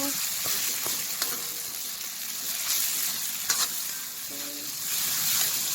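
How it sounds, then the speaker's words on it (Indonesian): Fish woku, a Manado dish, sizzling and frying in a pan with herbs such as basil, green onion, lemon leaves and turmeric, a continuous crackling hiss with occasional clinks of stirring, no talk. "Kita goreng terus ya biar enggak aneh."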